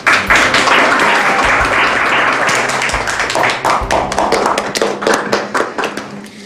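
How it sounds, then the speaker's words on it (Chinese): A room of hospital staff claps in unison during an in-house meeting, a dense burst of palm slaps that thins into scattered, individual claps toward the end. "鼓掌啊！"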